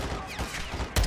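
Dense burst of video-game gunfire from the 2022 Call of Duty Modern Warfare 2 campaign, a rapid fusillade of close, loud shots with a heavy blast near the end and no talking.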